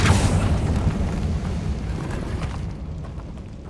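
A Confringo blasting spell from the Hogwarts Legacy video game bursts with a loud, rumbling explosion that booms at the start and then decays into a long, low roar fading over several seconds.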